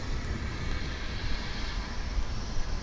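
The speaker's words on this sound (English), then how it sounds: "American Flight 698, arriving from Phoenix in Airbus" American Airlines Airbus A321 airliner arriving at DFW International Airport, a steady broadband engine roar with low rumble, moderately loud and continuous throughout, no voices.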